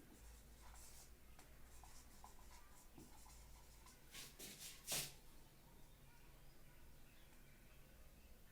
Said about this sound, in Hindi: एक और एग्जाम्पल लिखता हूं मैं यहां पे